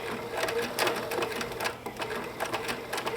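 A sewing machine runs a dense satin stitch around an applique, its fast needle chatter steady and close for the whole stretch, with brief rhythmic surges and no talk.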